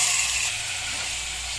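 Chicken pieces hit hot biryani masala in the pan, giving a steady, close, broadband sizzle that holds evenly for the whole stretch with no talk over it.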